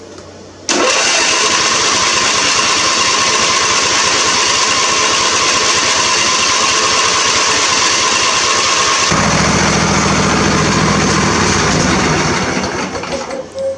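A John Deere lawn tractor engine runs steadily and loud, skipping because one side is not firing, with a rough uneven tone and a shift in character partway through before it fades slightly at the end.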